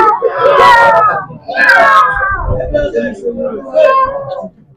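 A human voice imitates a cat, giving four loud drawn-out meows in a row, close and clear, each rising and falling like a whiny mew.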